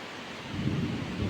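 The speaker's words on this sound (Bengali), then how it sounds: "দেখো বাতাস, বৃষ্টি, খুব ভালো লাগতেছে" Steady rain with gusting wind outdoors near a school street, a continuous broadband wash with a low rumble that swells slightly partway through, heard alone without talk.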